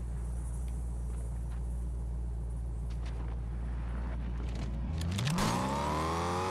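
A car engine in the Fortnite battle royale video game, a steady low rumble of driving that rises into a revving, accelerating whine near the end, loud and alone without talk.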